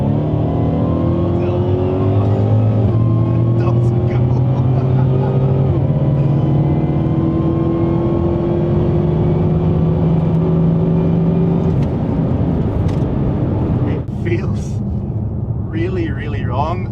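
Supercharged 800 bhp super saloon, a Dodge Hellcat or Mercedes C63s, accelerating hard, a loud sustained engine roar with rising pitch through the gears and a shift near the end, heard from inside the car.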